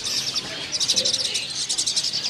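Caged birds at a bird market kiosk chirp in quick, high repeated bursts, close and moderately loud, with no talk over them.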